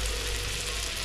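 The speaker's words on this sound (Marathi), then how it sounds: "आपली पहिलीच वरी तव्यामध्ये टाकलेली आहे मी, साईडला बटर आहे पूर्ण" An oyster patty fries in butter on a griddle, giving a short, steady, fairly faint sizzle with no talking.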